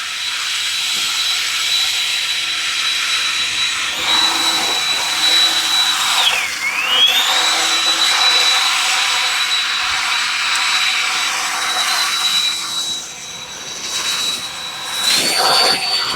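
A cordless brushless electric leaf blower, rated 500 CFM, runs in turbo mode with a loud, steady jet-like whine and rushing air. The pitch dips briefly and then recovers, and the sound is close and continuous.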